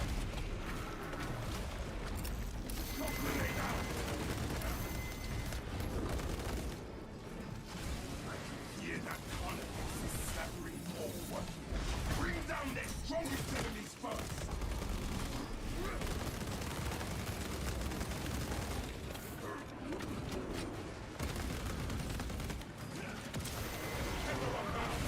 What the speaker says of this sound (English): We have to pump bolt carbine rounds into his face